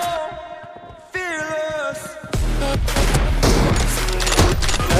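Gunfire in an online shooter video game, starting with tonal game sounds and then breaking into a dense, loud burst of rapid automatic shots and bangs that continues to the end.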